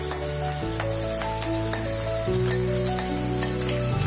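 Kundli bhaji roasting in a pan gives a steady, soft sizzle with occasional light stirring clicks, all beneath continuous background music.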